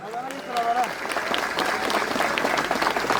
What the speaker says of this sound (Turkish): sizlerden kocaman bir alkış istiyorum onlara